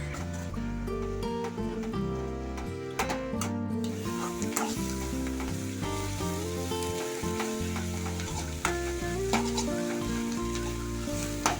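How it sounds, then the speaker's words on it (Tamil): Drumstick leaves sauté on low heat in a pan, a close, steady crackling sizzle with frequent stirring scrapes and light clinks throughout. "சிம்மில் போட்டு வதக்குனாதான் கீரை ஒன்று சுண்ணாப்பூல வரும்"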